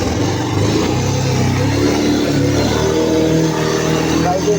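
Motorbike engine revving steadily on a rain-slick, slippery road during a wet-weather ride, a continuous loud mid-pitched drone with throttle swells, close and unbroken throughout.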